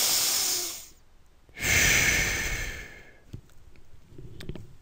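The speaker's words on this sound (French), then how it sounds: "Ça ressemblerait à quoi? Bien, ça serait essentiellement inspiration, expiration." Human breathing, a loud hissing exhale followed by a pause and then a long strong breath, close to the microphone, ending in quieter rustles and clicks, no talking.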